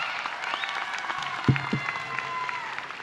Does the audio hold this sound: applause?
yes